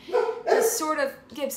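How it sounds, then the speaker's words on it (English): A dog gives a couple of quick barks and yips close by, overlapping with a person speaking. "That's my dog."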